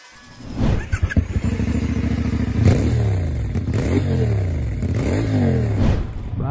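A 450NK motorcycle accelerating hard, its engine note rising in repeated sweeps through several gear changes, loud and close with no voices.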